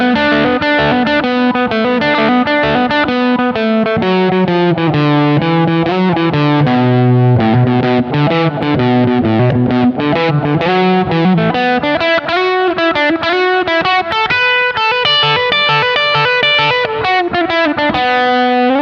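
An electric guitar run through an RHPF Elec Mosphoros overdrive pedal set for a bluesy, gritty blues-rock tone, playing a long, loud, continuous melodic passage of sustained distorted notes and chords with no talking.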